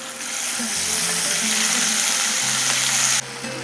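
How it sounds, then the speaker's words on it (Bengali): Ginger paste fries in hot oil for a vegetarian dish, giving a loud, steady, close sizzle that hisses without a break, with faint stirring underneath. "আদাটাকে একটু হালকা ভেজে নিয়েছি।"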